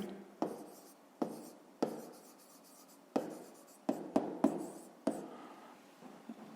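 Pen writing out a math solution in a school notebook, close and fairly quiet, with a string of distinct scratchy strokes coming in short bursts and pauses.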